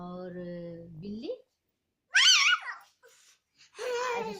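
A young child imitates a cat's meow, a short rising, wavering cry that follows harmonic adult speech and a pause, with a second rough vocal burst near the end.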